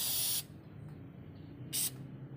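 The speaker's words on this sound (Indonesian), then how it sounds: "Ini hanya satu kali semprot aja langsung penuh dia pada bagian lubang ini ya." Anti-leak sealant spray shot into a hole, two loud hissing bursts, a long one at the start and a short second one, with quiet room noise between.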